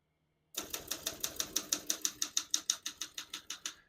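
A 1969 Olympia SM9 vintage portable manual typewriter starts after a short silence with a steady run of about seventeen crisp, close key strikes at an even, brisk rhythm, each a sharp metallic clack.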